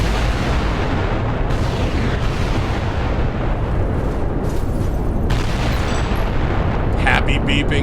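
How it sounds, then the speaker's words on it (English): A big explosion in the video game Fallout: New Vegas, a sustained loud rumbling roar with crackling bursts that fills the whole stretch. "Just seeing that explosion."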